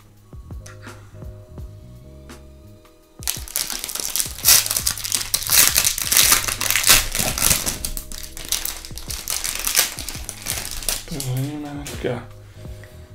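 A crinkled foil pack of 2021-22 Stature hockey trading cards is torn open, with loud, close crackling and crumpling wrapper noise for several seconds after a quiet start, and a voice speaks briefly near the end.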